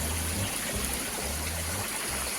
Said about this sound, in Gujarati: નજારો જુઓ, મસ્ત એવો ધોધ પડે છે.